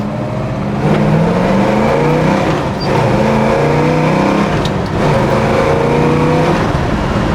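A 1967 Chevrolet Chevelle SS with a big-block V8 pulls hard and loud, its deep engine note climbing through gear changes as it accelerates, close and steady throughout with no talking.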